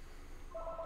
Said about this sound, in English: that phone will stop ringing in a moment